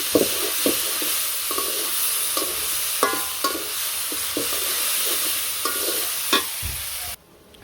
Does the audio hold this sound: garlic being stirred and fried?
yes